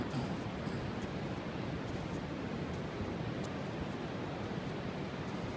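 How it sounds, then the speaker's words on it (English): Ocean surf rolls onto Morro Strand beach at Morro Bay on a foggy, calm morning, a faint, continuous broadband wash of breaking waves with no talk. "Waves are breaking."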